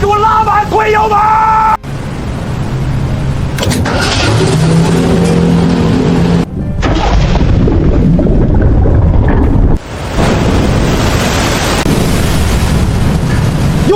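A boat's engine driven to full throttle in a typhoon at sea roars loud and sustained, with abrupt breaks, while people shout and yell over it.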